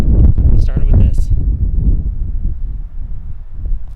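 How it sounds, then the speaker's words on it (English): Strong wind gusts across a high mountain lookout near the source of the Colorado River, a loud, continuous low roar buffeting the microphone, with a voice talking briefly over it. "It's pretty windy up here."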